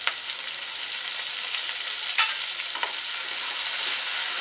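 Curry leaves stirred into chicken masala frying in a pan, with a steady, close sizzle throughout and a few soft scraping strokes from the spoon; no one speaks.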